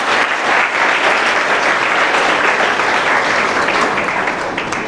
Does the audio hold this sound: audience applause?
yes